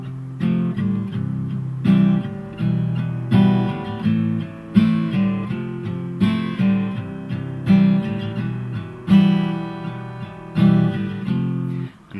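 An acoustic guitar plays the intro, strumming chords in even, recurring phrases, clear and close, with no voice.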